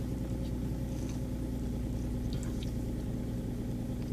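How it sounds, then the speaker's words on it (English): A car engine idling steadily during an airbag fault check, a continuous low hum with a constant drone and no change in pace, heard close and alone. "We'll start the engine up again."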